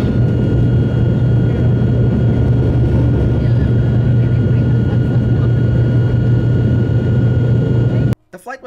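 Airplane cabin on a flight to Bora Bora, a loud, steady engine roar with a low hum throughout, cutting off abruptly near the end before a few brief knocks.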